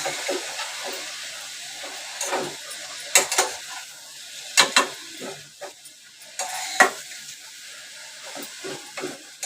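Fenugreek greens (methi bhaji) are stirred in a pan over a soft sizzle, with sharp scraping strokes of the spoon against the metal landing every second or so, close and clear, with no talk.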